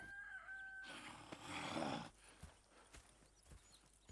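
Horse hooves clip-clop in Red Dead Redemption 2, a few scattered, fairly faint hoofbeats after a brief rush of noise, with a low hum underneath and no talking.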